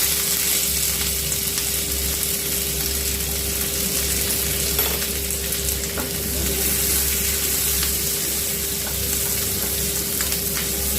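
Onions sizzle steadily in a hot pan for pasta, a constant close crackle of frying with faint stirring clicks and no talking.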